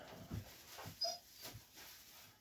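A dog whimpers softly a few times, short faint whines spaced apart against a quiet background.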